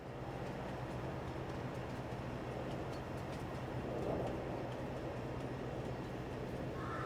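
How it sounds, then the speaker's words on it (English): A train loaded with wood chips in Farming Simulator 22 gives a steady, dense rolling rumble that holds evenly throughout, faint and distant, with no talking. "A train full of wood chips."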